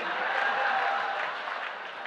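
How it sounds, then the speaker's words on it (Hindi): Audience applause at a Hindi comic poetry recital: a steady, dense wash of clapping from a crowd that holds loud and even throughout, fading only slightly toward the end. "और ये 4 आदमी ताली बजा रहे हैं"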